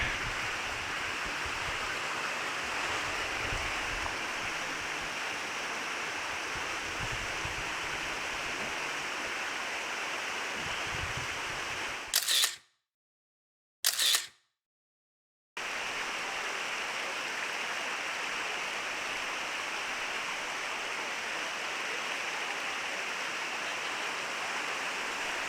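The Ohiopyle waterfall rushes in a steady, even roar of falling water, continuous and broadband. The sound cuts out briefly to near silence about midway before resuming unchanged.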